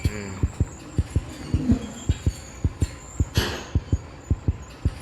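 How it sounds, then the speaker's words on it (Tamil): A steady, regular heartbeat thumps close and clear in the Granny 3 horror video game, pulsing about three times per second over a low hum. "ஹார்ட் பீட் அடிக்க ஆரம்பிச்சிச்சுப்பா"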